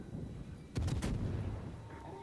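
Naval guns on the cruiser Belfast fire in a warship video game, two heavy booming blasts in close succession with a rumbling tail over a low background hum.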